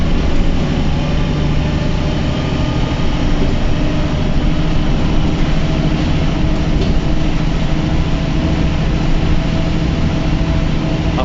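Stagecoach East Midlands bus 26177 on Scunthorpe Service 1 hums with its underfloor engine running, a loud, steady low drone and rumble heard from inside the cabin, continuous and without talk.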